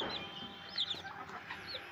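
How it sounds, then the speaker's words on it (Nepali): Kadaknath chickens and newly hatched chicks at a fancy chicken farm in Siliguri, next to a hatching machine: high, rapid chick peeps with a few hen clucks, close and fairly loud, with no talking. "यो चल्ला चाहिँ सिक्किमबाट ल्याएको ठुलो खालको कुखुराको"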